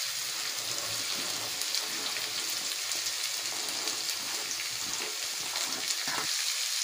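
Beetroot tipped into a pan of softened onions and green chilli and stirred, giving a steady, close crackling sizzle with faint scraping, and no one talking.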